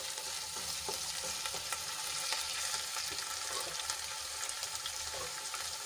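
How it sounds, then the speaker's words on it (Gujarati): Onions and tomatoes frying in a pan: a dense, steady sizzle with faint stirring, close and continuous, and no one speaking. "ડુંગળી અને ટમેટા આપણું સરસ રીતે ચડી ગયું છે તો હવે એમાં આપણે મસાલા એડ કરીશું"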